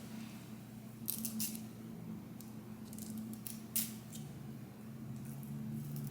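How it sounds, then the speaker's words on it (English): Scissors snipping excess lace from an HD lace front wig, several short crisp cuts in quick bursts over a low steady background hum, close and fairly quiet. "And now I'm going to cut off this excess lace."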